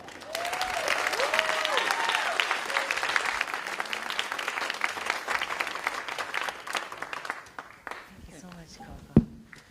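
Sustained applause from a conference audience at the opening plenary of an LGBTQ community gathering in Chicago, dense and steady before gradually thinning out toward the end, with a few voices mixed in.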